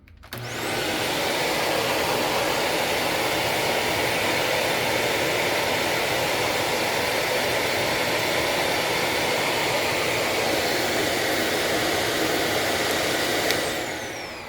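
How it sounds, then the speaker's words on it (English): A Shark UV540 Lift-Away upright vacuum cleaner runs steadily and loudly from start to finish, a constant broadband motor roar with a brief click near the end. "I'm just happy to have a Shark vacuum that has the lights"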